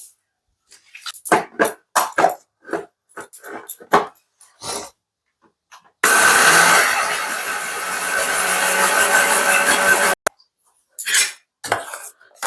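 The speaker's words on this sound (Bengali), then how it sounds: "তো চল এটা ব্লেন্ড করে নিচ্ছি মিক্সারে" A kitchen mixer grinder runs loudly and steadily for about four seconds, blending chili and mustard paste, after a series of sharp clinks and knocks as the jar is handled.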